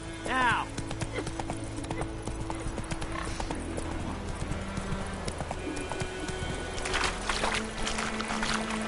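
Roach, the horse in The Witcher 3 video game, clip-clopping along with steady hoofbeats and a brief neigh, beneath game music and someone talking.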